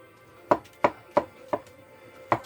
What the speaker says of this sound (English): And then I'm going to do some mushrooms. Again, you can chop them however you want